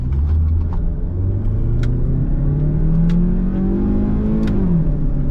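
Mazda CX-5 2.0 petrol with 180,000 km accelerating on a test drive, the engine's droning tone rising steadily in pitch, then easing briefly as it shifts, loud and close with no talking.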